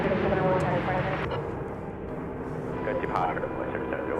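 An American Airlines Airbus A321neo airliner on Flight 2767 to Seattle, at DFW Airport, gives a broad, steady engine roar that swells and eases slightly, with faint voices murmuring underneath.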